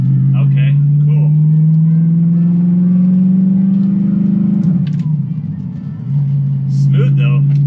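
An Audi R8 with a gated manual gearbox driving, its engine a steady close low drone heard from inside the cabin that eases in pitch, dips briefly, then returns, with a few faint clicks and voices.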